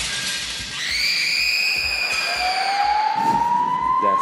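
Ambulance siren sound effect: a wailing tone sweeps up and down steadily over a low rumbling background, loud and continuous with no talking.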